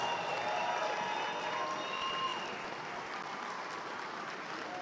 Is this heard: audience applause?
yes